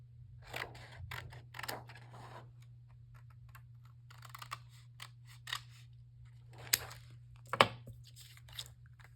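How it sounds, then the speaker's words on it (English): Scissors rough cutting a sheet of clear acetate plastic for a craft shaker box, a series of close crisp snips in short bursts over a steady low hum. "I'm going to rough cut a piece of acetate out."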